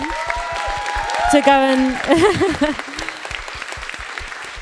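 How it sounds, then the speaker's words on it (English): Audience applause at a panel discussion on abortion rights, a crisp run of hand claps that carries on beneath a speaking voice before thinning out. "Can we have a round of applause for Belle?"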